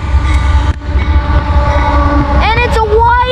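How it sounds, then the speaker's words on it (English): A CSX coal train led by locomotive 537 passes Halethorpe Amtrak station in Maryland, with a loud, close rolling rumble, and then a strong horn blast sounds near the end. "This is a coal train."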